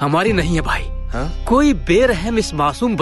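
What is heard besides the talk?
No distinct noise like a dog, phone or traffic.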